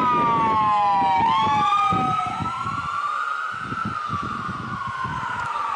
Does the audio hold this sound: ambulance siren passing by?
yes